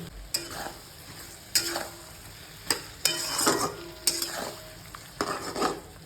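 A paste of ginger, green chilli, onion, garlic and tomato cooks in a pan, with short bursts of sizzling and stirring scrapes recurring every second or so over a quiet background.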